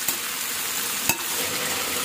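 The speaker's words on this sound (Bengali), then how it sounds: "প্রথমে দেবো পেঁয়াজ কুচি, এরপরে দেবো আদা কুচি, কাঁচা লঙ্কা কুচি আর টমেটো, এই সব একসাথে দিয়ে একটু নাড়াচাড়া করবো" Chopped onion, ginger, green chili and tomato sizzle in an oiled pan, a loud, close, continuous frying hiss with two brief scraping knocks as the mix is stirred.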